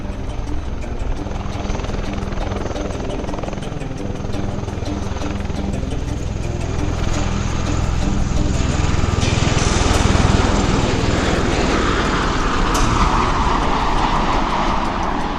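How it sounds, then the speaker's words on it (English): A USMC MV-22 Osprey tiltrotor performs a rolling takeoff at an airshow, its loud chopping rotor thrum and turbine roar building over about fifteen seconds, peaking near the middle and staying strong to the end. "Let's watch now as the MV-22 Osprey demonstrates the rolling takeoff capability."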